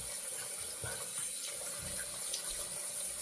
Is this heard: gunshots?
no